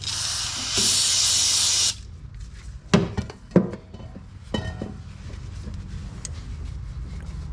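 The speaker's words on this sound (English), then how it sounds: "spray some brake part cleaner and I just wipe all the mating surfaces" Aerosol can of brake parts cleaner sprayed onto the engine mating surfaces during a Toyota 4.7 valve cover replacement, one loud steady hiss lasting about a second, then a few sharp clanks and faint rustling handling noises.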